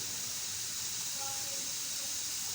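A second batch of homemade potato French fries frying in hot oil, giving a steady, even hiss that stays at a constant level with no breaks.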